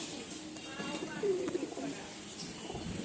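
A pigeon at a pigeon sale gives soft, low coos against a faint background hum, with some indistinct voices nearby.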